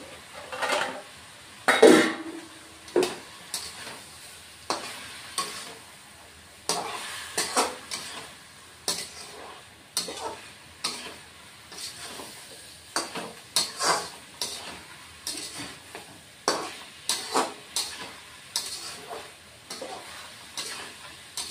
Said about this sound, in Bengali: আর বন্ধুরা এই যে মাছের মাথা এটাও দিয়ে দিচ্ছি।